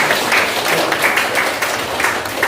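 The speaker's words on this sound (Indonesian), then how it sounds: "Tepuk tangan untuk teman-teman guru yang ada di sini." An audience at a parenting seminar claps for the teachers present, the applause swelling in uneven bursts at moderate loudness.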